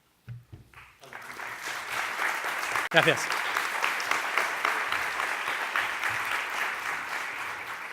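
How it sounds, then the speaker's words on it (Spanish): Sustained applause from a lecture audience in a Spanish debate hall, starting after a brief spoken thanks and holding steady and dense for several seconds. "Han hecho ustedes muy bien en aplaudir de nuevo"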